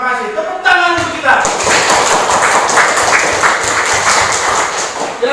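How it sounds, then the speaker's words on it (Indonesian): Classroom group applauds after a morning greeting at a teacher training session; steady mixed clapping with thuds and taps runs throughout over brief speech at the start. "Tepuk tangan untuk kita."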